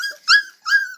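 A puppy lets out two short, high whimpering cries in quick succession, close and fairly loud, with silence around them.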